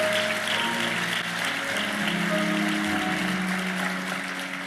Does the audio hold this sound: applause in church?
yes